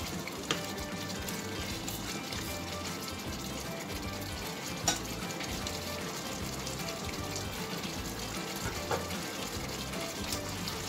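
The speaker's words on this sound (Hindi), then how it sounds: "थोड़ी देर मसाला भून लेती हूँ" Masala for chicken onion karahi frying in a pan, a steady close hiss and crackle running unbroken with occasional small pops.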